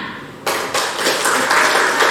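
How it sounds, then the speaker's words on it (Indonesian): A class bursts into applause in a school lesson. Loud, dense clapping starts abruptly and continues steadily to the end. "Oke, tepuk tangan."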